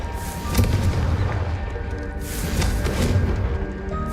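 The Bombarda explosion spell in the Hogwarts Legacy video game, a deep rumbling boom that swells and rolls on with heavy low-end thunder, loud and sustained across the clip.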